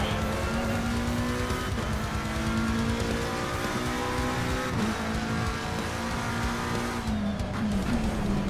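A McLaren race car running wingless in Assetto Corsa Competizione, its engine droning steadily at high revs with shifting pitch through gear changes and faint tyre squeal, continuous and close throughout.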